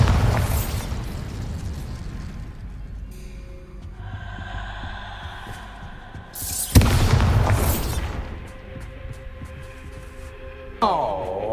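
Bombarda spells bursting in the Hogwarts Legacy video game, several booming blasts with a loud burst near the middle and another near the end, over a low rumbling hum, with no talking.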